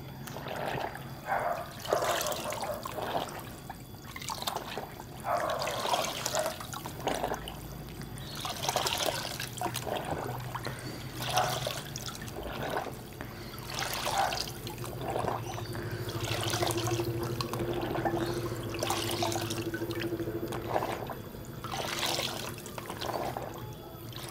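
Water trickling and splashing while a K&N air filter is soaked and rinsed: irregular pouring and dribbling pulses repeating every few seconds, close and soft, with a low background hum and no clear talking.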